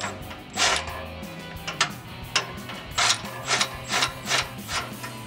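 An impact gun tightens the bolts of a catalytic converter shield under a 3.5L Tacoma, giving a series of short, rattling mechanical bursts at close range.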